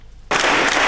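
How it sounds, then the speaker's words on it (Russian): Audience applause for actors performing a Ukrainian prayer-themed stage show, bursting in suddenly after a quiet moment and holding as a loud, dense wash of clapping. "Артистов благодарили аплодисментами."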